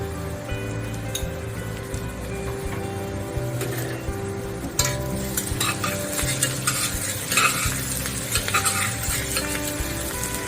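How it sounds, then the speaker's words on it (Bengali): Black pepper, white pepper, nutmeg and mace fry in hot oil for a Bengali mutton curry, giving a steady close sizzle with stirring, growing busier and crackling partway through. "গোলমরিচ, সাদা মরিচ, জায়ফল, জয়ত্রী একটু ফোড়নে দিয়ে দিচ্ছি।"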